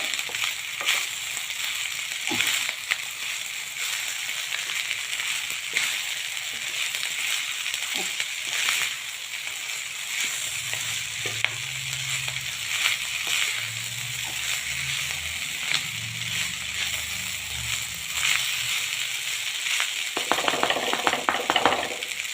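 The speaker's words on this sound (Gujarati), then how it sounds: "ભાત સરસ મજાના આપણે ફ્રાય કર્યા છે" Rice fries in a pan with garlic, coriander and spices, giving a steady close sizzle throughout with occasional stirring scrapes and clinks, and a low rumble in the middle stretch.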